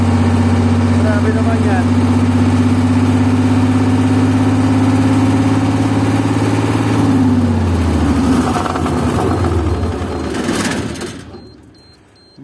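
A generator engine hums steadily at idle, then its RPM climbs continuously into over-frequency, the pitch rising and roughening before the engine shuts down and winds away near the end; a voice speaks over the running engine.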